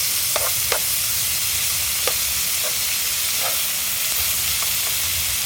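Thin-cut beef and onions fry on an outdoor griddle as a steady broad sizzle, broken by a few sharp scraping clicks of a spatula, close and continuous, with no one talking.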